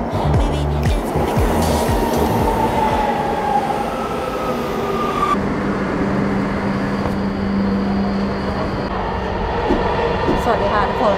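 Subway train in Los Angeles, loud and close, with a continuous rumbling roar, screeching wheel tones and a shift in pitch as it runs, heard from on board with a voice speaking faintly underneath.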